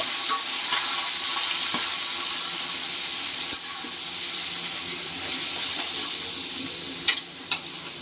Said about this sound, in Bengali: এবার দিয়ে দিচ্ছি তেলের উপরে ম্যারিনেট করা মাংস